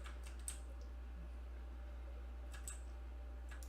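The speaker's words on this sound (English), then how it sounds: "I don't have my controller plugged in, so I have to play with my keyboard" Computer keyboard keys click softly in a few scattered clusters as a sandbox game is played on a PC, over a steady low hum.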